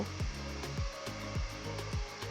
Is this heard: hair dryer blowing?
yes